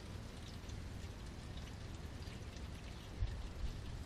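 Engine oil draining from a Ram EcoDiesel 3.0L V6 during an oil change, a steady pouring splash into a drain pan with a couple of heavier drips near the end, no talk.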